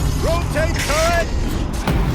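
A tank turret in the video game Horizon Zero Dawn grinds as it rotates, with rising mechanical whines and creaks in short bursts over a steady low rumble.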